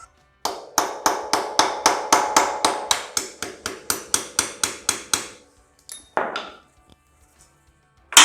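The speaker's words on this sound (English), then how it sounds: "you have a hammer and punch." Hammer and punch driving a rusty pin on a 1963 Bolens Husky 600: a steady run of about eighteen sharp, ringing metallic strikes at a quick even pace, close up, then a couple of scattered clinks after a short pause.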